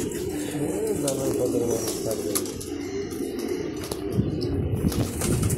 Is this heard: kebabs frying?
no